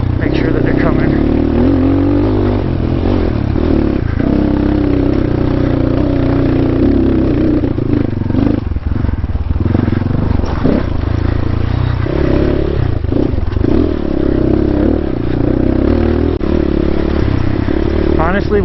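A dirt bike ridden along a single-track canyon trail, its engine buzzing loudly and continuously close by, rising and falling with throttle, with clattering over rough ground and a rider talking over the noise.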